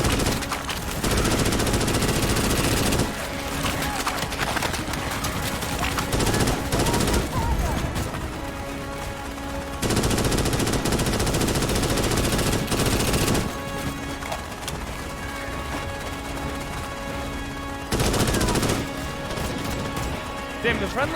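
Heavy automatic gunfire from the sci-fi shooter Starship Troopers: Extermination comes in loud, dense bursts separated by quieter gaps, with players talking over the combat.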